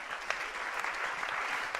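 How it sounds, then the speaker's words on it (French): A church congregation breaks into applause and acclamation during worship, a dense, continuous roar of clapping filling the space without pause for the short stretch. "Il mérite aussi les acclamations"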